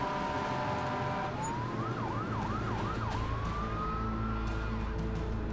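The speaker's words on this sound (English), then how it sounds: "Emergency vehicles are responding." Emergency vehicle sirens respond at an airport crash scene, a steady tone rising into repeated wailing yelp sweeps over continuous vehicle rumble, loud and close with no talk.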